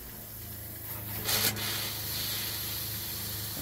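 Water flushes through an RV toilet, clearing out antifreeze with fresh water. It makes a steady, soft hiss with a brief louder surge early on, and no one talks.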